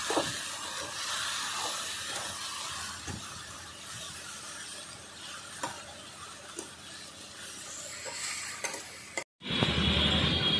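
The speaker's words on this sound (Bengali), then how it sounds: "ভালো করে শাক আমি এক মিনিট ধরে নেড়ে চেড়ে নিলাম" Dhenki greens stirred in a pan with turmeric and salt, a steady hissy sizzle with scattered scraping clicks from the spatula, continuous until a brief break and a louder burst at the end; no talking.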